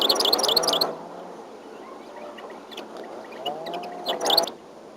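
Wild songbirds chirp and tweet around small trees, with a bright burst of calls at the start and another near the end over a steady low hum of open-air background.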